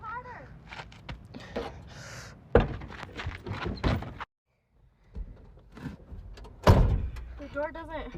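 A pickup truck door that will not latch being opened and swung shut, giving two solid thunks amid people talking nearby.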